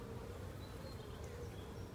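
Honey bees swarm around an open apiary hive in a dense, continuous buzzing hum at close range, steady and unbroken for the whole stretch with no voices.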